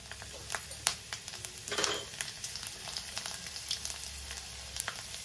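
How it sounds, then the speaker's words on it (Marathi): Five or six chopped garlic cloves fry in hot oil for lasuni methi, giving a steady crackling sizzle with occasional clicks of a stirring spoon, close and moderately loud. "आपण 5 ते 6 लसणाच्या पाकळ्या ज्या आहेत त्या चिरून घेतल्या आहेत, ते टाकून घेऊया"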